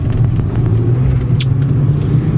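A 2009 Mercedes CLK350 AMG Sport Grand Edition coupe rolls along wet roads, its engine a steady, loud low rumble heard from inside the cabin.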